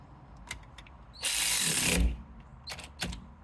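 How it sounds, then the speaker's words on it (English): A ratchet tightens bolts on a BMW Z3 rear drive axle, giving one loud, continuous whirring, clicking burst of about a second, with a few faint metallic taps before and after it, close by and with no talk. "it's as tight as this ratchet can do anyway"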